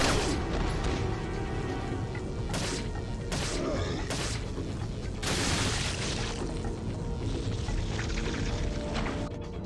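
Loud flashbang blasts and booming impacts from the video game Resident Evil 4, with several sharp bursts over a constant dense rumble of game sound and no talking.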